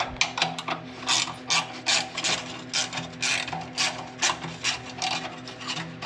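A ratchet wrench loosens a 13 mm nut on the clamp of a car's primary muffler pipe, producing repeated bursts of clicking and rasping strokes in a regular rhythm, close and fairly loud, with no speech.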